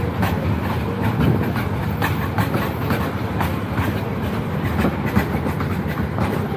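Train running in Iguazú National Park, Argentina, a steady rumbling roll with rhythmic clacking of wheels on rails, close and continuous, with no speech.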